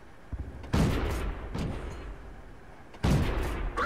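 Tank cannon fire from a BT-SV light tank in a video game: two heavy booming shots about two seconds apart, with a smaller blast between them and battle rumble underneath. No voices.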